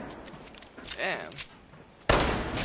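Gunfire from a gun in the video game Fallout 76, a burst of rapid shots followed by a sudden loud blast, with a voice speaking over parts of it.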